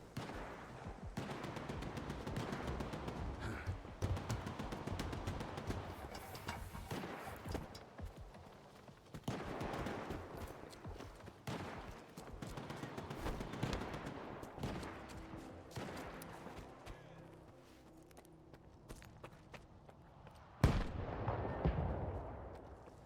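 Rapid gunfire in the STALKER 2 video game as NPCs shoot, with dense bursts of automatic weapons and single cracks repeating nearly nonstop, loud and close, ending in a heavy blast.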